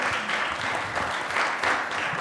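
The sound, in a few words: audience applause at TSI Open Days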